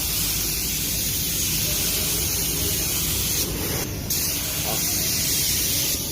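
A spray gun lays filler primer onto a car panel in a paint job, a steady loud hissing spray that runs without a break, with brief pauses in the airflow partway through.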